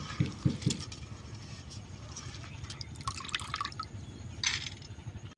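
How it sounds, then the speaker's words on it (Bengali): Soaked red lentils are washed in water with soft splashing and dripping, faint and close, a few sharper clinks near the start and a brief louder splash toward the end. "ডালগুলো এখন আমি বেশ সুন্দর করে ধুয়ে বাইটে নেবো।"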